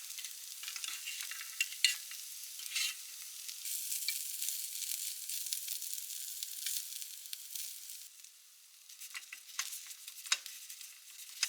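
Eggplant sizzling and grilling in a frying pan beside other vegetables, a soft, steady crackle and hiss with occasional stirring clicks, close and fairly quiet.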